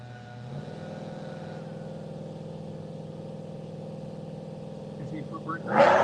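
A full-size truck with a nitrous bottle idles with a steady low engine drone at a drag strip, then revs hard and loud at the end, with voices talking over it.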